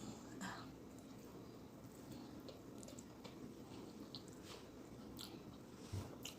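Egusi soup with fufu and amala being eaten up close, soft wet chewing and squishing with occasional bites and small crunches, quiet and steady throughout with faint background hiss.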